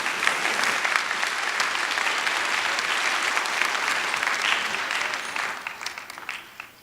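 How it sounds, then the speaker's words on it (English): A commencement ceremony crowd gives a loud, full round of applause, dense and sustained, fading out over the last couple of seconds. "Let's give her one more big round of applause."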